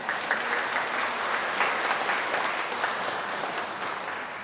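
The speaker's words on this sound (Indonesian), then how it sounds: "Kita kasih aplaus untuk mereka." Church congregation applauding the choir at a Christmas Day Mass, a steady, dense wash of clapping hands filling the hall throughout without pause.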